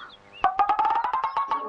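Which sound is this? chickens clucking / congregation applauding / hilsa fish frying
chickens clucking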